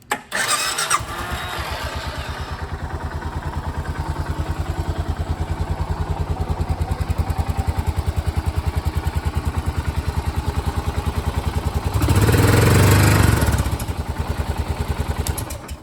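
A carbureted 2017 Suzuki Boulevard S40 motorcycle cranks and fires right up, then settles into a steady, thumping single-cylinder idle with a brief louder blip of throttle near the end.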